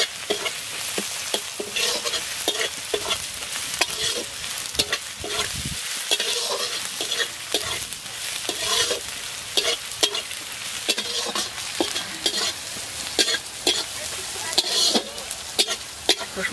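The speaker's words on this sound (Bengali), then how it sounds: "এবার রসুনটা দিয়ে একটু নাড়াচাড়া করবো।" Garlic sizzles steadily in a pan for Bengali-style chicken curry cooked at an outdoor pondside picnic, with frequent scraping and clacking as it is stirred throughout.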